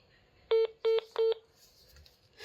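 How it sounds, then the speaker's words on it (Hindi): Phone keypad tones from dialing a number: three short, loud, evenly spaced beeps, with quiet room noise between them. "मैं अपने फोन से फोन करता हूँ"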